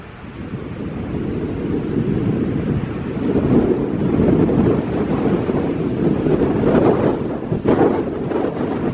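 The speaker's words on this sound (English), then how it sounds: "Very windy and very cold." Strong, cold wind at Clingmans Dome buffets the microphone in a continuous low roar, gusting slightly louder at times, with no talking.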